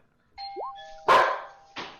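Dogs bark in a few sharp, separate bursts, the first loud and near, a second shorter one following, with a tonal electronic chime over the start.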